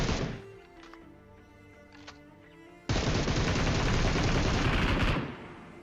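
Dense, sustained automatic gunfire in PUBG Mobile (BGMI) erupts halfway through, loud and continuous for about two seconds after quieter game ambience with a few scattered shots.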